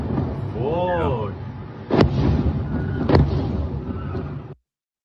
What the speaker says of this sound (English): I hear the explosions.